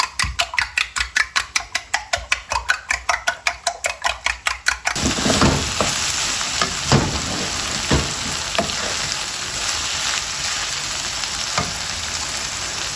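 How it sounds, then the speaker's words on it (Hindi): Two eggs are beaten in a bowl for stuffed karela, a fast even run of close tapping strokes lasting about five seconds. Loud, steady frying sizzle then takes over. "इसको अच्छी तरह हम फेंट लेंगे।"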